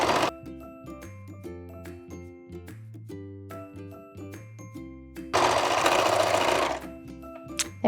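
A serger stitches knit sweater fabric in short bursts of fast, loud mechanical whirring, stopping and restarting, with one harsher, noisier stretch partway through.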